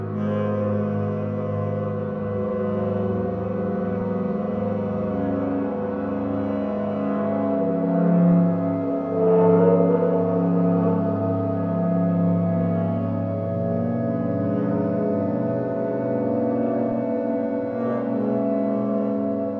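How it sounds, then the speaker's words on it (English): A processed clarinet preset, Hidden Shadows, layered with pitch shifting and different reverbs into a creepy organic pad; dense sustained tones swell steadily with slowly shifting harmonics for the whole stretch, alone and without talk. "I love this preset, and it just sounds like so much more than just one clarinet."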